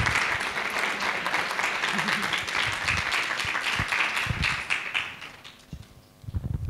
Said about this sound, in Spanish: con un aplauso muy fuerte